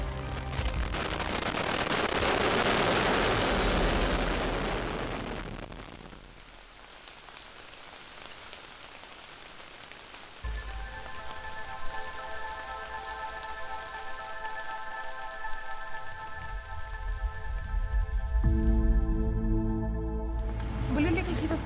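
Rain falls over the taiga at the Plesetsk cosmodrome after a rocket launch. A broad, dense hiss opens the passage and then fades to a softer patter, with voices talking and tonal, music-like sounds layered on top.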